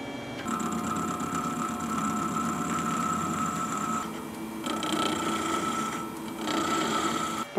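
Steady machine whine with a sharp tonal hum from a lathe cutting off metal while machining a lead screw, pausing briefly midway before resuming, close and continuous with no talking.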